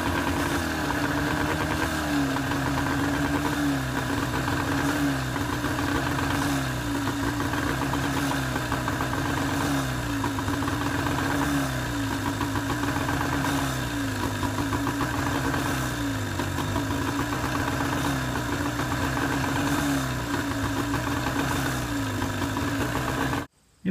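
An outboard boat motor idles steadily and loudly nearby while being winterized with fogging spray, an even, knocking low rumble that cuts off abruptly as the engine dies.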